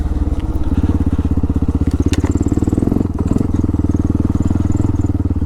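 Honda XR650L motorcycle engine thumping steadily at close range while riding, a continuous pulsing rumble mixed with wind buffeting from an open visor, with a brief dip near the middle.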